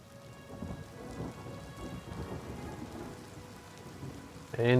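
Steady rain pours down with low rolls of thunder rumbling beneath it in the video game Oblivion Remastered, a continuous stormy wash that swells slightly near the end.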